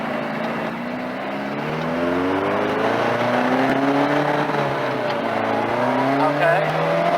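A Supermarine Spitfire car skids with its front wheels locked under braking, a continuous loud scrubbing tyre noise with wavering engine tones beneath, close and steady for several seconds.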